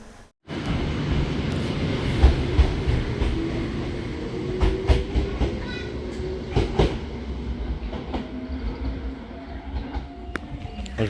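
A tram runs in Japan, heard from inside the car: a steady, loud rumble of wheels on rails with rattling clicks and clacks throughout, plus a faint rising motor whine.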